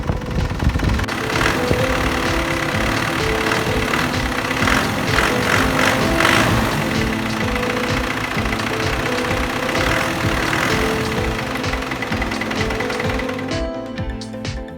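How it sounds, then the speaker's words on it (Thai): A car engine with a broken A/C compressor belt just replaced is run and revved as a test, a loud steady mechanical drone with belt and pulley whir that cuts off near the end, with no speech. "ทดสอบการเร่งเครื่องยนต์ดู"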